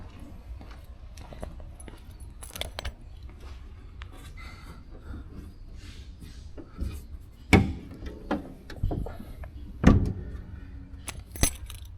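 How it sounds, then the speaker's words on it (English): Keys to a 1975 Chevrolet Caprice jangle and clink in scattered bursts, a few sharp metallic rattles standing out against quiet rustling and handling noises. "let me go ahead and grab the keys"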